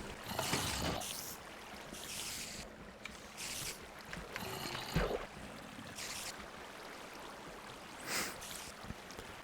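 Water flowing and splashing in the Minecraft video game, a steady washy rush with brighter splashy bursts recurring every second or two, moderately loud, with no talking.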